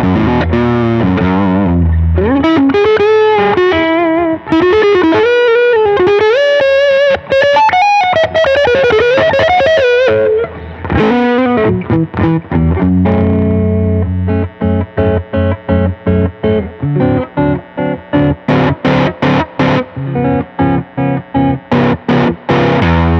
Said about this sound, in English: Just the neck P90 dirty now.